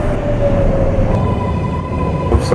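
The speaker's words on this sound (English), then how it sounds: "It's some kind of like path work train hybrid shit." A PATH work train in the OpenBVE train simulator game rumbles steadily, with a faint tonal whine and a click near the end, loud and continuous with no speech.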